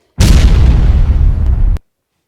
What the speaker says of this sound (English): I'm giving it a house explosion